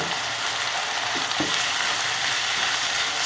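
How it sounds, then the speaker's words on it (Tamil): Plantain masala, marinated with salt and turmeric, sizzles and fries steadily in a pan over medium heat, with faint scraping of stirring. "இதை மீடியம் ஹீட்டில் ஒரு 2 நிமிஷம் வதக்கினா போதும்"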